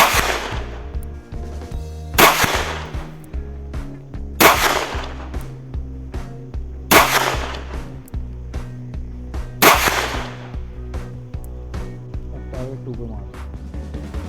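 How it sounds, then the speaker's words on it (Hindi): A 9mm pistol fired at a 50 metre shooting range: five loud, sharp shots spaced a few seconds apart, each ringing out with a long echoing tail over a steady low hum. "चलिए अब हम 9mm पिस्टल को फायर करते हैं 50 मीटर रेंज से"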